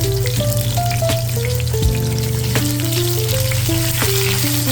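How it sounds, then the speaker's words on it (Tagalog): Tofu frying in a pan of hot oil gives a steady, close crackling sizzle that runs throughout, with a gentle melody playing over it. "ipainit ang mantika at ating pituin ang mga tokwa"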